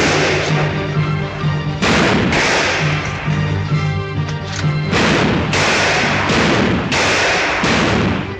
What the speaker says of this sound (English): He's doing some mighty fancy shooting.